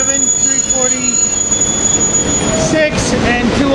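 A Silverliner IV commuter train pulls into a busy city station, its wheels squealing in long, high, wavering tones over a steady low rumble of railcars, with faint talk under the noise.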